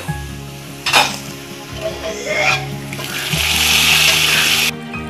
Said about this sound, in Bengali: এখন মাংসটা তেলানি করে ফেলবো।